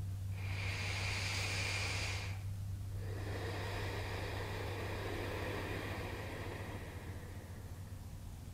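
Slow deep breathing during a gentle morning yoga session, a long airy exhale followed by a pause and another drawn-out breath, close and steady over a low hum.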